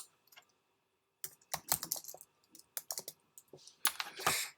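Fingers type on a computer keyboard while setting up a Gmail signature, making quick, irregular bursts of light clicks and key taps with a short silent gap near the start. The sound is close and fairly quiet.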